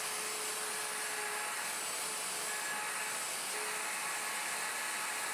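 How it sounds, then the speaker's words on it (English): Router plunge-cutting a mortise in wood on a Leigh FMT Pro jig, a steady high-pitched motor whine with a broadband cutting hiss running continuously and evenly, close and alone. "Lock the table and route the front left mortise."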